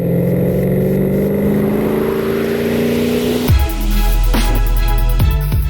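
A 2013 Maserati Quattroporte's 530-horsepower 3.8-litre twin-turbo V8 revs and holds a rising drone, then drops sharply and blips again, loud and close.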